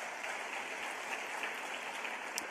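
Audience applause at a teacher of the year celebration, steady dense clapping held at an even, moderately faint level, with no talk over it.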